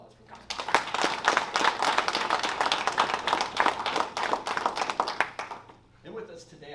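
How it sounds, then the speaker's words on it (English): Seated spectators give a round of applause for senior players of a league-winning team, a close burst of many hands clapping for about five seconds before it fades and a voice resumes. "can we have a round of applause for them?"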